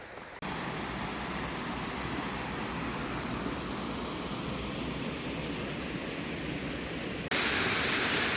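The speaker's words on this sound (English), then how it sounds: "This is the waterfall you could see from the fenced area earlier on." A waterfall on a nature walk gives off a continuous rushing roar, steady and fairly close, that grows suddenly louder near the end.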